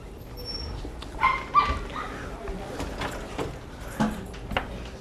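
Dogs at an animal shelter let out a few short yips and whimpers over a murmur of background noise and faint voices.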